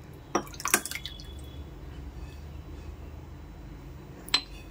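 Curd (yogurt) goes into panchamrit made with raw milk and mishri powder, giving a few soft, quiet wet drips and clinks near the start and one more near the end over a low background, with no talking.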